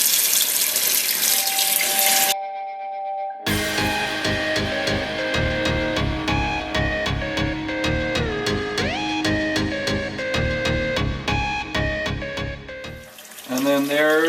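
Water runs from a kitchen tap through sausage casing while making sausage, a steady rushing flow under bright, rhythmic music with a brief gap near the start.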